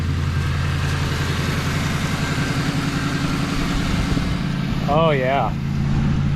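A Ford F100 truck fitted with a swapped Crown Vic engine runs at a steady idle, its low rumble continuous and close, while someone speaks briefly over it near the end.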